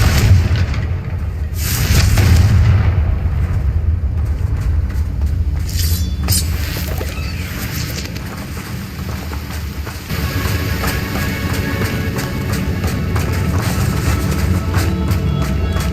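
Confringo blasting spells going off in Hogwarts Legacy gameplay, heavy booming explosions and rumbling impacts layered over a continuous loud game soundscape, with no speech during the stretch.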